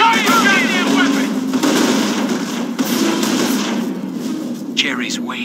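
Gunfire in a Company of Heroes World War II battle, a dense continuous rattle of rifles and machine guns mixed with shouted soldier voices, loud and close throughout.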